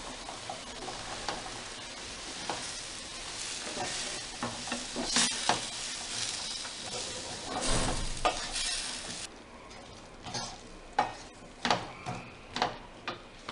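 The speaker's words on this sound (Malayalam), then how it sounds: "നന്നായി ഇളക്കി കൊടുക്കാം." Green beans cut lengthwise stir-fried in a pan for a Tamil Nadu style beans masala: a steady close sizzle with repeated scraping stirs, then sharper spatula knocks toward the end, no voices.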